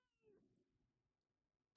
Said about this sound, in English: Can you hear my cat?